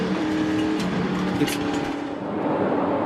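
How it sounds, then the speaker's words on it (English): Race cars roar around the Eldora Speedway dirt oval during a 2021 SRX heat, a loud continuous engine drone with cars passing close and revving, filling the whole stretch. "Tony Stewart just passed 4 cars down the backstretch."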